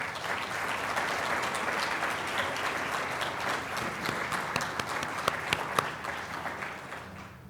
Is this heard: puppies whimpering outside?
no